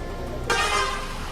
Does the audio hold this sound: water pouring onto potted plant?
no